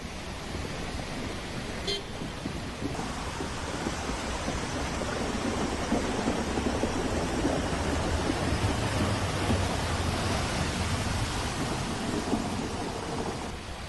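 Heavy monsoon downpour in Dakshina Kannada, a dense steady hiss of rain across a waterlogged road, with traffic noise and a distant horn mixed in throughout.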